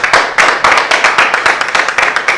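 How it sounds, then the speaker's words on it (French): A studio audience on a French-language talk show claps for a guest's vision, a fast run of sharp, rhythmic hand claps repeating steadily and close throughout. "On peut applaudir pour la vision."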